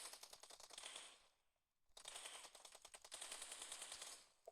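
Rapid bursts of automatic gunfire in a video game, two long rattling volleys separated by a short pause, crisp and continuous, with no voices.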